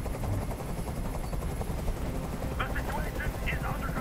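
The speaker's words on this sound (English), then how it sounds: "Tell that helicopter to get out of here!" A helicopter hovers over a rooftop hostage standoff in the video game Detroit: Become Human, its low rotor rumble droning steadily beneath raised voices and tense game audio.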